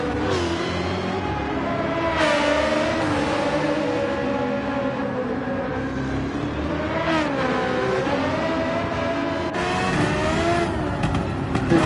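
Race car engine in Gran Turismo 7 on the Nürburgring Nordschleife, revving hard and continuously with rising pitch runs broken by quick shift drops, loud and close throughout.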